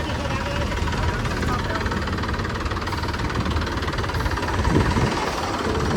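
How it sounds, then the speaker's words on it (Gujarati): A new Mahindra tractor engine running steadily nearby, a dense low rumble with a knocking throb that swells slightly near the end, with no clear talk over it. "ટ્રેક્ટર કાઢી લીધું છે"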